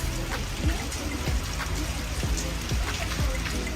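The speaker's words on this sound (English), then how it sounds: "We happened to be there in January and we got to see the rain." Rain falls steadily in Oman in January, with individual drops pattering and splashing close by over a constant wash of noise.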